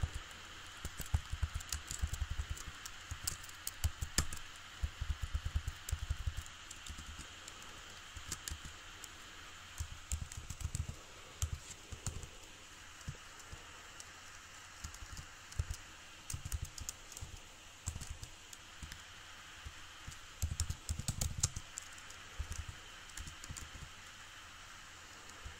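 Soft typing on a computer keyboard, faint clustered bursts of quick key clicks separated by pauses, recurring across the stretch over a low background hiss.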